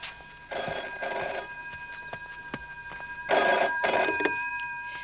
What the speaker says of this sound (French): Va répondre au téléphone.